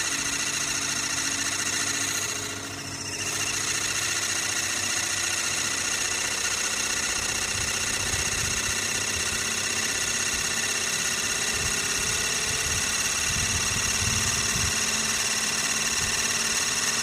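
A Sirius steam engine driving a generator runs at a steady level, a dense mechanical hum and whir with a brief dip early on and faint rumbling underneath, with no voices.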